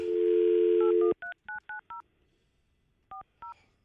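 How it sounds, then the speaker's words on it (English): A telephone keypad dials a cell phone number: a steady dial tone cuts off, then a series of crisp touch-tone beeps follows in quick irregular bursts, with a short pause before the final two tones, close and clear with no talk. "I'm calling her cell phone"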